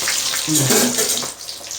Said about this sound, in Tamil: நல்லா சலன்னு பாருங்கள் எப்படி சவுண்டு கேட்குது பாருங்கள்